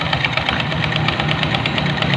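Motorcycle engine with a loose, wobbling drive belt running close by, a loud continuous mechanical clatter and rattle with no talk.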